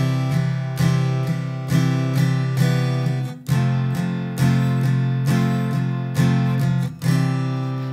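An acoustic guitar plays the opening of a song, strumming steady, evenly spaced chords that ring out loud and close with no talking.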